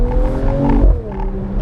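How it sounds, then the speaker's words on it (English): A Mercedes E53 AMG in Sports Plus mode gives quick engine blips, the revs rising and falling in short surges with a bassy exhaust tone, heard close and loud. "Oh, engine blips."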